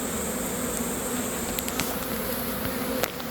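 Honey bees buzz steadily around banked mated queens in a beekeeping setup, a continuous close hum with a few brief sharper buzzes as individual bees pass near.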